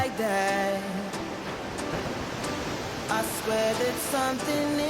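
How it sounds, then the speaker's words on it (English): Roadside waterfall in St. Thomas, Jamaica, with clear water cascading down from the hills amid greenery, a continuous broadband rush heard at moderate level with some tonal sounds over it. "Crystal clear water cascading from the hills, surrounded by lush greenery."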